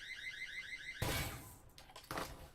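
An alarm notification sounds in the VR game Echo Combat: a warbling, siren-like electronic tone plays for about a second before it gives way to bursts of in-game noise.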